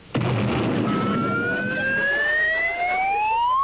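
A cartoon fire engine siren from the Frostbite Falls Volunteer Fire Department starts after a sudden burst, then wails in long rising tones that climb steadily and stay loud to the end.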